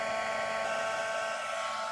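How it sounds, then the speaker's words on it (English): A heat tool blows hot air to melt powder, giving a constant, loud, whirring blow-dryer-like rush with a steady tonal whine that holds unchanged from start to finish. "It takes the heat tool a few minutes to heat up. It's kind of like a blow dryer"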